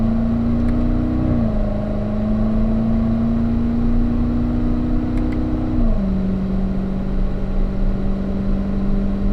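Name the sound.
car engine accelerating on a race track, shifting up to fourth gear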